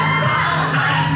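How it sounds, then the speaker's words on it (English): Wedding guests at the Grand Plaza cheering during the garter removal, a brief loud burst of whoops, yells and crowd noise close by. "Big round of applause for Danny."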